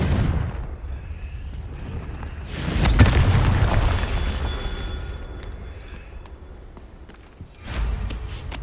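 In Hogwarts Legacy, a Confringo spell hits with a deep booming blast that swells into a rumbling roar and fades, followed by a second heavy impact, loud and without speech.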